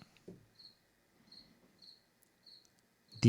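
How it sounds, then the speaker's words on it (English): A single cricket right outside a door chirps in short, evenly spaced bursts, faint and alone in a quiet room at night, ending with a brief louder thump. "So I apologize for the cricket noise you guys are hearing tonight."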